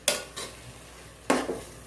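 Soaked rice stirred with masala in a pot while making kuska, a few short scraping, rustling strokes close by with a quiet pause between them, no voices.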